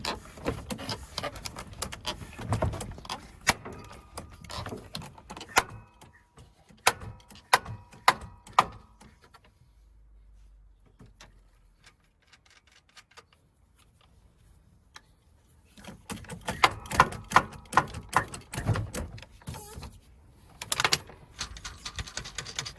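Threaded bar and press working a seized injector out of a Renault Trafic engine: bursts of metallic clicking, ticking and scraping, a quiet pause in the middle with a low hum, then more close clanking and rattling.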